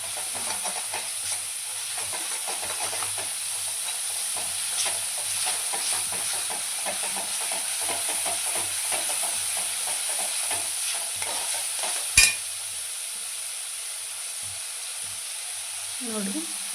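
Raw onion frying in oil in a pan for paneer peas masala, a low steady sizzle with light stirring scrapes and one sharp clink of utensil on metal, fairly faint.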